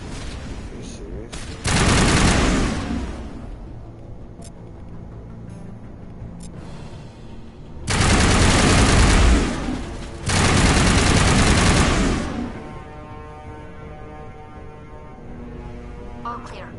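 Bursts of rapid automatic gunfire in the Mass Effect Legendary Edition video game, two loud sustained volleys with lighter shooting in between, over a steady game soundscape, with a voice talking in the background.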